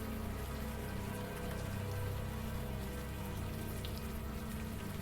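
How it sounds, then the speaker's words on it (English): Warm rain pours down in the video game Unavowed, a steady dense patter of drops on surfaces that holds even and unbroken throughout, with no voices. "the warm rain is coming down"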